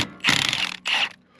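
An impact wrench removes a bolt after the belt is taken off, two loud rattling hammering bursts, the first longer and the second shorter, close up.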